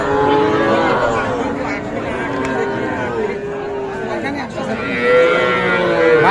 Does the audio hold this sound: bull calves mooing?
yes